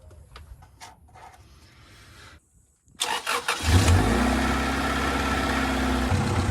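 A Honda Integra DB1 engine just after an oil change turns over and settles into a steady, loud, close idle with a clattery edge, preceded by a few seconds of quieter shuffling and a brief silence.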